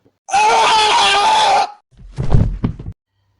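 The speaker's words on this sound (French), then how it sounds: "L'homme crie et tombe au sol." Horror sound effect of a man letting out a loud, drawn-out scream, followed a moment later by a series of heavy thuds as his body falls to the ground.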